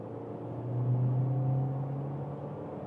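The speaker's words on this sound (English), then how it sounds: "we accelerate on the motorway from 50 kilometers an hour" A Skoda Superb accelerates on a motorway from about 50 km/h with the suspension in a sporty setting, giving a steady engine drone and road rumble that swells slightly as it pulls.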